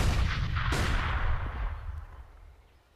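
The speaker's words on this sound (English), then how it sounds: "Here comes the execute. It's a good nade." A grenade blast and gunfire from CS:GO on the Inferno map during a professional ESL Pro League match. A loud, sharp burst lands under a dense, rumbling gunfire background, then fades out over the last second.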